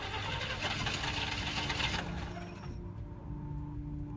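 A car engine cranks and struggles to start in The Walking Dead video game, a loud continuous grinding churn that drops away after a couple of seconds into a quieter low hum.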